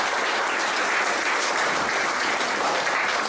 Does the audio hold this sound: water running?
no